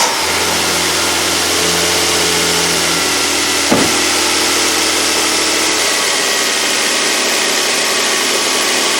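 A 2007 Hyundai Santa Fe 3.3L engine turns over and settles into a steady, even idle hum, with a single sharp click partway through.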